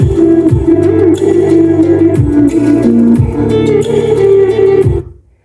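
Music plays loudly through the stock speakers of a Daihatsu Sigra, a steady band track with pulsing bass and bright cymbals, cutting off abruptly at the end.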